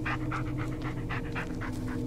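Bullet the dog pants quickly and rhythmically in the video game Blair Witch, a close, steady series of short breathy huffs with no talking.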